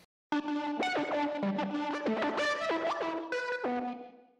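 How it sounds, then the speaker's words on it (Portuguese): A sung voice sample run through tremolo and fuzz distortion pedals sounds as gritty, buzzing sustained tones that step between pitches with an echoing, effected texture. The tones play steadily and fairly quietly, with no speech over them. "E aqui um equalizador que eu não estou usando nada e uma distorção, um fuzz"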